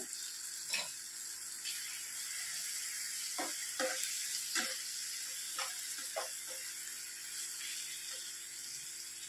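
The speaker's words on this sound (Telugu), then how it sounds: "ఇందులోనికి ఈ టమాటా వేసేసుకోవాలి. మొత్తం ఒకసారి కలిపేసుకోవాలి." Tomatoes sizzle steadily in a hot pan for an egg masala gravy, with a broad hiss running throughout and several short scraping clatters as the mixture is stirred, with no talking.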